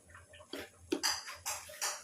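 Spoon scraping and clinking against a pan while pea filling is stirred for kachori, a few soft irregular scrapes close by in a quiet kitchen.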